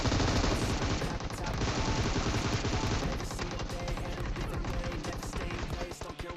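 Rapid bursts of gunfire from the PUBG Mobile game, dense overlapping shots and automatic fire rattling continuously throughout at close range, with a voice talking faintly underneath.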